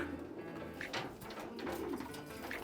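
Racing pigeons coo softly in a loft, several low throaty calls spread through a quiet background with faint rustling.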